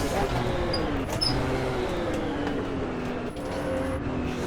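A race car engine at the 1970 24 Hours of Daytona roars continuously and close, its pitch sliding down and back up through gear changes and a missed rev-match, loud throughout with no break.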